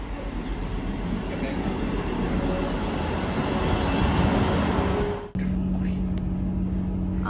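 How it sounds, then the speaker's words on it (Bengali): Steady, loud rumble of a train ride, a continuous wash of wheel and carriage noise that cuts off abruptly near the end, leaving a quieter hum with a faint tone. "আমরা ট্রেনে উঠে পড়েছি।"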